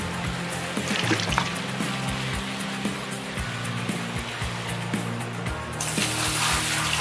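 Water trickles and splashes in the Gold Rush video game as a bucket scoops water and drains it, a soft steady pouring under low mechanical hum, brightening near the end.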